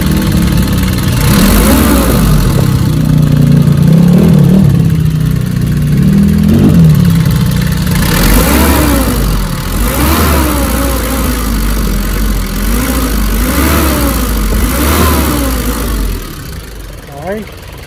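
A Nissan Urvan van engine idles with a loud, steady rumble, then revs in several rising and falling surges, while someone talks over it.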